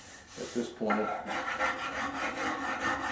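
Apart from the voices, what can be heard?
almond-shaped file smoothing cherry wood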